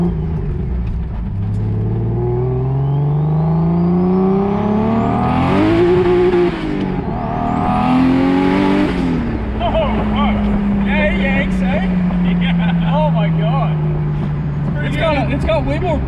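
Big-turbo BMW E36 convertible engine under full throttle on a dyno, loud rising pulls climbing in pitch then falling off, close and dominant, with voices talking near the end.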